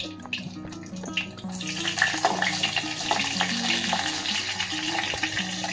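Chopped onion, garlic and green chili dropped into three spoons of hot oil, a steady bright sizzle and crackle that jumps up partway through and keeps frying.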